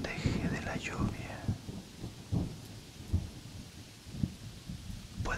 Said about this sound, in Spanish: Ha comenzado a llover, pero no puedes mojarte.